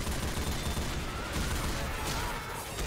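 Sustained gunfire in Left 4 Dead 2, aimed at a UFO during a Left 4 Invasion custom campaign: a dense, loud, continuous barrage of rapid shots with no gaps, alone and without talk.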